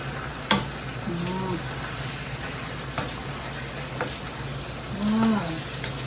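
Chicken and pineapple being stirred in a pan give soft scraping and sizzling with a few sharp utensil clicks, close by, while a voice briefly speaks now and then.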